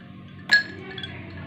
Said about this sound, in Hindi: आइस क्यूब डालूंगी।